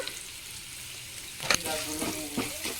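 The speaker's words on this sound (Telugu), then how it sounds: "పసుపు వేసుకొని అయితే మంచిగా మిక్స్ చేస్తున్నాం" Sliced plantain with turmeric sizzles steadily in a hot pan while a spoon stirs it, giving a few scraping clatters over the constant close frying hiss.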